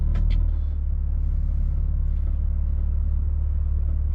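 Low, steady engine rumble from a 2021 BMW G80 M3 Competition held at full throttle against launch control, a deep continuous drone with a couple of brief higher-pitched chirps near the start and no speech.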